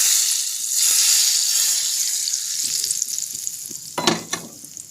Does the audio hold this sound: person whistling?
no